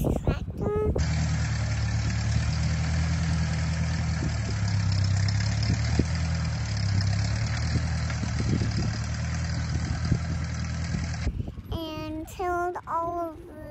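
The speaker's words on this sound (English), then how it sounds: "our friend Marv came over and with his tractor" A farm tractor idles with a steady low rumble and constant mechanical drone for about ten seconds, close by and unbroken, before it cuts off and a voice and other talk follow.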